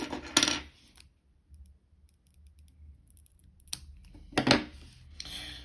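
A single crisp snip as fishing line is trimmed off at the tag end of a carp hair rig knot, with a couple of small clicks before and after it, all close and otherwise quiet.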